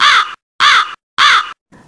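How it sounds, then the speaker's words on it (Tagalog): A crow caws three times, loud and close, in an evenly spaced rhythm, with a fainter fourth call at the end. "Uwak."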